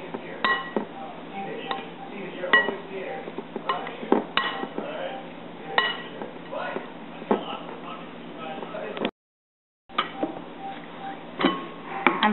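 Utensil clinking and scraping against a bowl while baby shrimp pancake batter seasoned with black pepper is stirred, an irregular run of light taps and knocks with a brief silent gap near the end.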